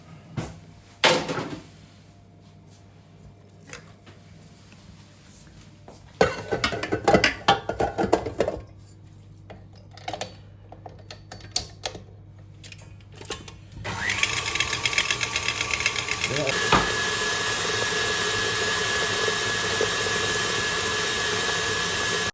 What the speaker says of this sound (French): Une fois ma crème pâtissière refroidie, je vais la mettre dans le batteur.